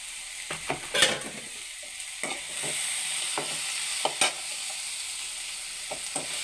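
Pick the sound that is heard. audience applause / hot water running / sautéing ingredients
sautéing ingredients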